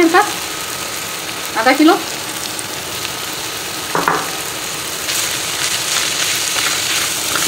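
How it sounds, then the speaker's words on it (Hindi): About half a kilo of minced beef fries in a pan with ginger, garlic and green chillies, giving a steady close sizzle with brief stirring scrapes, while a voice speaks briefly over it. "अदरक लहसुन को और हरी मिर्चों को 2 से 3 मिनट फ्राई करके इसमें कीमा डाल देंगे"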